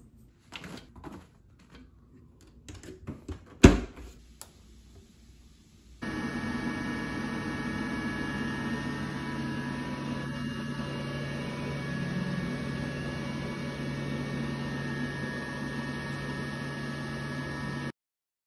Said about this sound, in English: So this is my portable dryer. It is by Morus.